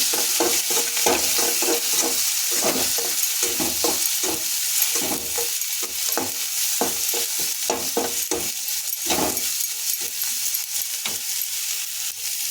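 Chili and turmeric frying in a pan, a bright constant sizzle punctuated by close scraping stirs of a utensil at irregular intervals, loud and near.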